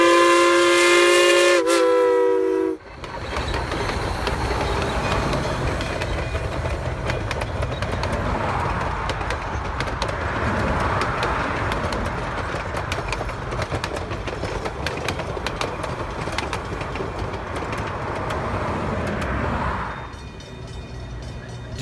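A K-28 steam locomotive hauls a passenger train on the Rio Grande line near Durango, its loud whistle sounding near at the start, then a long steady roar and clatter of cars rolling past that fades out.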